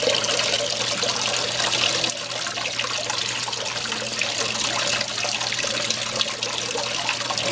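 Steady rushing water washing black sand across a gold clean-up table, a continuous close splashing flow that holds at an even level throughout with no voices.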